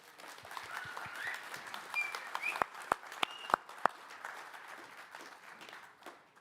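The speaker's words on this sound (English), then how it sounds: "Give them a round of applause." Audience applause after a panel discussion at a prop firm expo in London: a fairly faint spread of clapping from the crowd, with a few sharp claps standing out in the middle before it tapers off.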